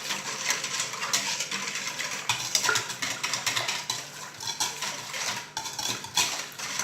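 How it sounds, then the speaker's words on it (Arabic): A wooden spoon scrapes and knocks against a bowl while stirring homemade bread dough with yeast, a steady run of close, clattering strokes with no talk. "نحرك."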